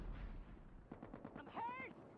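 Rapid automatic gunfire from the mobile shooter game Call of Duty Mobile, a quick run of evenly spaced shots followed by a louder burst, close and fairly loud with no talk.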